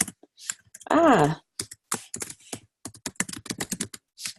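Names being typed on a computer keyboard: quick bursts of close, crisp keystrokes in an uneven rhythm, with a drawn-out vocal sigh near the start.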